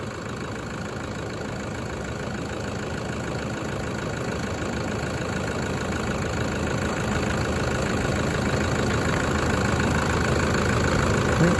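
A diesel engine idles steadily with a rough, knocking chug that grows slightly louder over time, with no voices.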